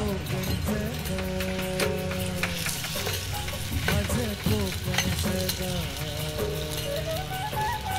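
Chicken 65 pieces fry in hot oil at home, giving a steady loud sizzle with stirring clatter throughout while people talk over it.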